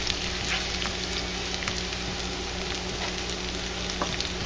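Sweet onion and mushroom topping sizzles steadily in a frying pan as it is stirred, a continuous close crackle with occasional faint scrapes and no talking.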